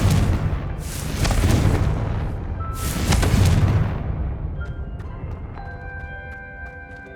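Confringo blasting spell in Hogwarts Legacy going off twice, each a loud booming explosion with a rumbling tail, followed by fainter chiming magical tones and sparkles as the blasts fade.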